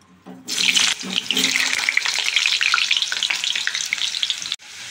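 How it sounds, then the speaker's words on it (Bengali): Potatoes frying in hot oil for a desi-style chicken recipe, a loud, steady hiss and crackle that starts abruptly and continues densely with small pops, then cuts off near the end. "তেল গরম হয়ে গেছে, তো আমি আলুগুলো ভেজে নিচ্ছি।"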